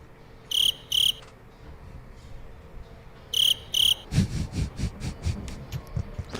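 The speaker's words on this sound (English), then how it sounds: "It's crickets." Cricket chirping sound effect in two paired bursts of rapid high trills, followed by a run of rhythmic low thumping pulses.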